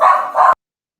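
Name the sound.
dogs barking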